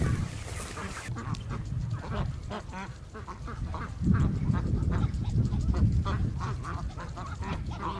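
A flock of farm ducks quacks continuously and loudly nearby, many overlapping calls forming a dense chorus, with a brief stretch of wind or handling noise at the start.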